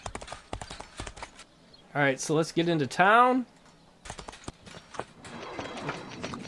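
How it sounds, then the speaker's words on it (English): Horse hooves trotting in the Expeditions Conquistador video game, a quick clip-clop rhythm of close, crisp hoofbeats that runs through most of the clip, with someone talking over it and a short voiced interjection in the middle. "Trot like you've never trotted before"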